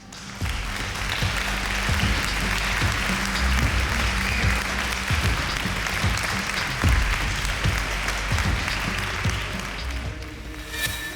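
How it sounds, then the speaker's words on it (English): Thousands of people in a hall as large as an aircraft hangar burst into cheering and applause, a dense, loud, continuous roar that holds steady for several seconds before cutting off. "Suddenly, a cheer goes up."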